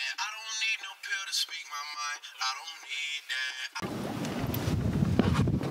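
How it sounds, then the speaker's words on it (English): Wind gusts outdoors near mountains at a high suspension bridge buffet the microphone in a loud, steady broadband roar. It starts abruptly after a stretch of people talking and continues to the end. "Oh, the wind."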